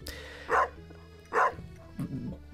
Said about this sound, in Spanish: ¿Ves a este perro?